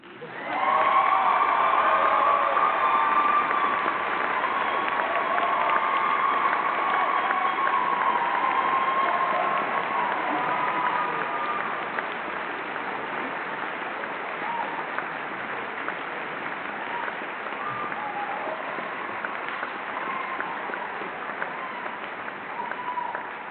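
A university graduation audience applauds with sustained, dense clapping that starts loud and gradually softens over about twenty seconds, heard from within the hall.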